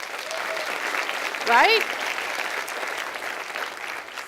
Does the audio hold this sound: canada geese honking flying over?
no